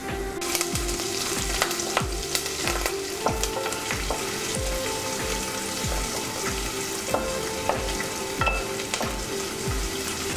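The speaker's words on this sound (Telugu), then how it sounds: "తాలింపు వేగిపోయిందండి." Onion, cumin, mustard seeds, curry leaves and dried chillies fry steadily in hot oil for a Telugu tempering, a dense continuous sizzle with recurring scraping stirs and scattered crackles and pops, close and loud with no talking.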